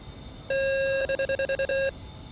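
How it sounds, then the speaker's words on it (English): Stall warning alarm in the DCS World A-10C flight simulator: a loud steady electronic tone sounds for about half a second, then breaks into a quick series of rapid pulsing beeps before cutting off, over a faint cockpit background hum. "That's our stall warning indicator."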